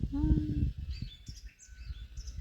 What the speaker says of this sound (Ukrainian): пташки співають, ну так гарно